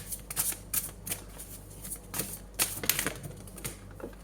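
Tarot cards being shuffled and drawn, giving quick, crisp riffling and flicking bursts at irregular intervals, close and fairly quiet, with no talk.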